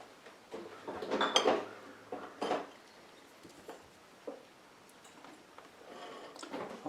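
A knife cutting through pickled eggs with beets, giving a few soft clicks and taps against a hard surface in a quiet kitchen.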